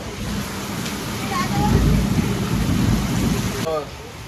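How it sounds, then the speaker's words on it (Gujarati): Heavy rain pours in a loud, steady hiss that swells for a while and then eases slightly, with faint voices barely audible underneath. "કેવો વરસાદ આવે છે"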